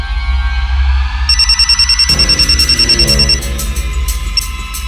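A telephone rings after a number is dialed, giving a steady electronic ring tone in repeated pulses that stops after a couple of seconds, loud and close with no talking.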